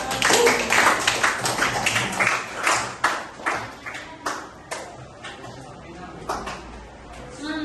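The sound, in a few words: applause for a student's answer in class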